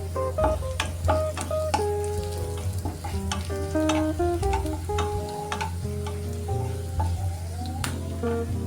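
Curry leaves sizzling and crackling in hot oil in a pan while making upma, a loud continuous fry with sharp pops and a spoon stirring close by.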